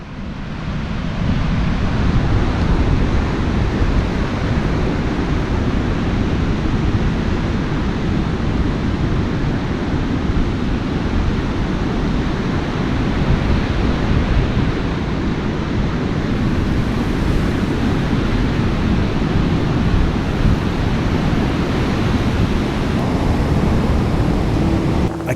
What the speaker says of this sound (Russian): Ничего себе волны.